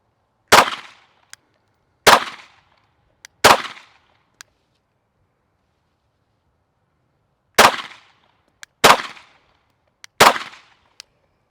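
Six sharp shots from a Glock 17 Gen 5 pistol on a range, fired singly in two groups of three with a pause between, each a loud crack with a short decay, followed by faint clinks of falling steel casings.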